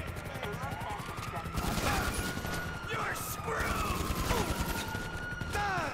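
Rapid gunfire from the GTA V video game rattles in repeated bursts, mixed with game sound effects and music under excited voices talking.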